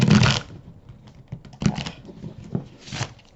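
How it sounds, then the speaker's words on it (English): Tarot cards riffle and slap together in short, papery bursts, a fumbling shuffle with a few separate flurries and soft taps between them. "I'm having trouble shuffling this morning"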